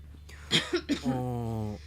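A game character from Cupid Parasite gives a short, close cough of two or three bursts, followed by a sustained voiced sound.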